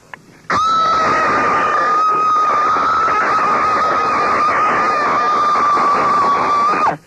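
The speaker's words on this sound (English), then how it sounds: "you're going to give us a Halloween blood-curdling scream" A radio caller lets out a long, sustained Halloween scream, loud and continuous for about six and a half seconds with a piercing steady pitch, heard over a phone line.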